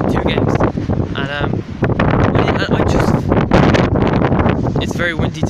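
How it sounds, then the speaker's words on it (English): Loud, steady wind buffeting the microphone, a constant roar under a person talking throughout. "it's very windy today"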